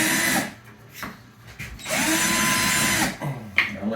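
A power drill drives a drywall screw into a wall to make a pilot hole for a curved shower curtain rod, whirring in several bursts with pauses between, one long sustained run in the middle, close and loud.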